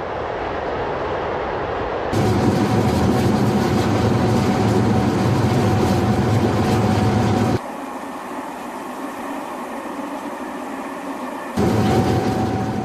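A train runs along the railway with a steady, loud rumbling roar that shifts abruptly in level between passages, fading quieter toward the end before swelling again, with no voices present.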